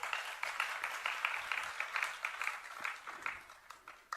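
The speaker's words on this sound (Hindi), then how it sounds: "क्यों ताली तो बहुत देर के बाद बजा दिया।" An audience at a live religious discourse claps together, a steady, fairly distant wash of applause that holds evenly for a few seconds with no voices over it.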